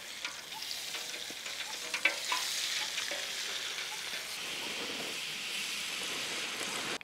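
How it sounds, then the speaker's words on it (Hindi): Oil goes into a pot for Hyderabad chicken biryani and sizzles steadily while being stirred, a bright continuous frying hiss with scraping strokes, close and without talk. "जो ब्राउन अनियंस फ्राई करने के लिए जो ऑयल यूज़ करे थे वही ऑयल इसमें ऐड करेंगे"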